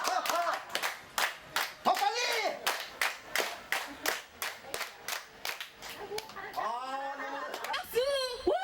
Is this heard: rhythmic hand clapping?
yes